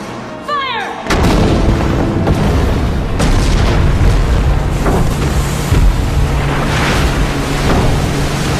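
Warships' guns fire at an inlet in an American action film pitting a Megalodon against a Colossus: one sharp report, then a loud, continuous rolling barrage of heavy booms over surging ocean noise.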